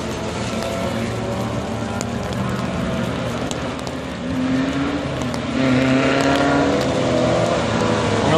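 Small-bore open-wheel race cars howl around an SCCA road course, with a continuous loud engine drone that swells as cars pass nearby, and brief talk under the noise.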